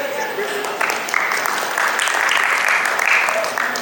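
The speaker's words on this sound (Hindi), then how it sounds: "इस बात में तो कम से कम मर्द ताली बजाते हैं।" Audience applause at an awards show, a dense wash of many hands clapping continuously at moderate loudness, steady and sustained throughout with a slight swell midway.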